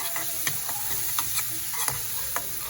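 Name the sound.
stirring spices frying in a pan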